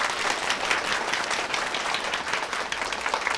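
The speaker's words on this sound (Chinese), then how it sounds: "大家掌声欢迎一下" A classroom of students applauds to welcome a newly transferred classmate standing at the lectern, producing a continuous, dense wash of clapping at steady volume with no talking.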